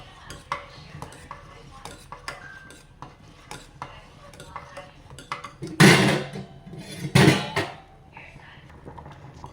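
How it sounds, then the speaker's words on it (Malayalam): Metal spoon clatters and scrapes in a pot of boiling curry during a home lunch cook, light clinks through the stretch and two louder, close bursts of stirring near the end, with no talk. "ഇനി നമുക്ക് നല്ലോണം ഇളക്കി കൊടുക്കാം."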